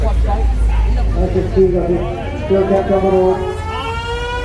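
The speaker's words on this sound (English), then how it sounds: "Oh, a siren!" A wailing siren rises and falls in the distance beneath steady low rumble and someone talking nearby, at the Barley Saturday event in Cardigan, Wales.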